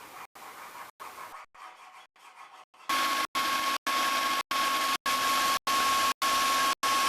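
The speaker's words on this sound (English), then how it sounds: "You could also file it to shape." A hand file strokes rhythmically along a small forged knife blade, each rasping pass loud and close with brief gaps between, softer strokes early and steadier harder ones later.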